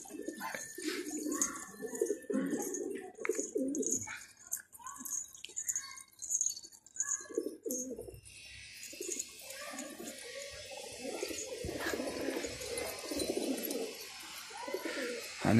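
Pigeons coo repeatedly in low, throaty bursts, close by in a bird shop in Irbid, with chirps and rustling around them and a steadier hiss of background noise in the second half.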